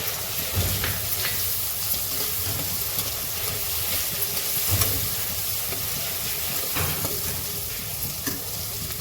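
Asafoetida (hing) sizzles in hot oil as the tempering for a coriander-and-gram-flour sabzi. A steady, close frying hiss carries on throughout, with soft stirring scrapes and no talking.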